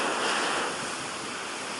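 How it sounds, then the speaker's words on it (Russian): A stormy sea pounds the sandy shore at Zelenogradsk with a loud, continuous roar of crashing surf and wind noise, easing slightly after the first moment; no talking. "Что мы сейчас будем смотреть на наше море бушующее"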